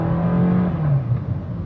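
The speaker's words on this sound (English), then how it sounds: "The engine is loud when you try to accelerate the car" A 2018 Suzuki Ciaz engine drones loudly and steadily as the car accelerates, its pitch sliding slightly and then settling, heard from inside the cabin with no talk.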